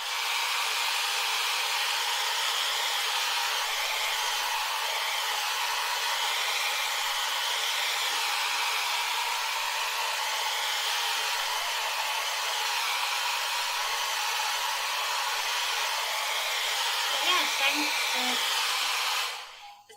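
A hair dryer blows steadily at close range while drying freshly dyed hair, a constant whooshing hiss that runs unbroken for nearly twenty seconds before switching off abruptly at the end.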